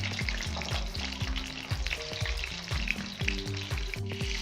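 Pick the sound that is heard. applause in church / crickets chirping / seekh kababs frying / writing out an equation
seekh kababs frying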